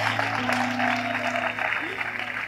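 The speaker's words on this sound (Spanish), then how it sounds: "No se vayan, un aplauso." Applause from a church congregation, moderate clapping blended with crowd murmur and a low hum, continuous for the short stretch.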